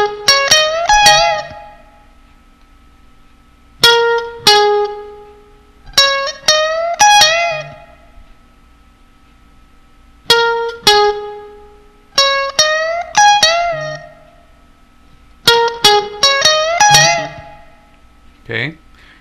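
An electric guitar plays a solo lick, with several bursts of quick plucked notes separated by short pauses and a bent note, clear and alone at moderate volume.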